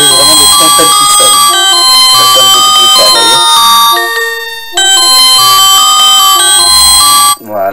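A bright electronic ringtone melody from a simple senior mobile phone plays loudly with chiming tones and steady rhythm, briefly pausing and then resuming, with a voice talking over it.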